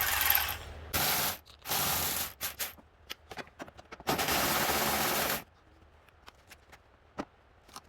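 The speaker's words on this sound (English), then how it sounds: "we're just gonna take off those two 10 millimeters first" A ratchet loosening 10 mm bolts at the radiator of a 2014 Jeep Cherokee with the 3.2L V6 makes several separate bursts of rapid, close clicking, with quiet pauses and small taps between them.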